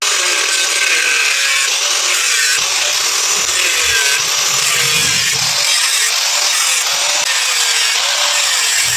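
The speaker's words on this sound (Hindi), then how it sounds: "हमने इसकी जो एग्जॉस्ट की कटिंग है इसको करके कंप्लीट कर दिया है।" A cracked scooter exhaust pipe being cut, with continuous loud close grinding and rasping in repeated strokes and no speech.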